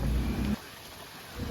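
Rain falling on a mountain trail on Mount Kerinci, a steady hiss of rainfall with a louder rumbling burst at the start that drops away, then builds again near the end.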